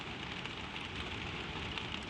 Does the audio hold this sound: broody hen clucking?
no